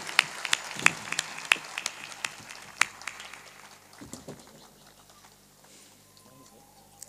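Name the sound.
audience applauding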